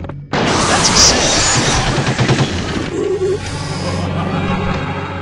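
A machine gun in the game Nosferatu: The Wrath of Malachi fires a loud, rapid burst that fades into scattered impacts and clatter, with a voice briefly heard in the mix.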